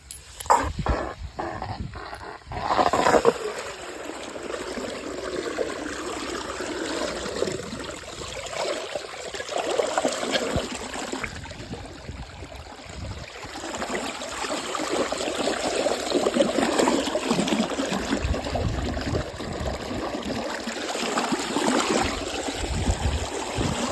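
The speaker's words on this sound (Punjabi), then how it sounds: "ਪਾਣੀ ਤਾਂ ਛੱਡ ਤੇ" Irrigation water gushes and trickles steadily into a direct-seeded rice paddy field, a continuous flowing wash with a few sharper splashy bursts near the start.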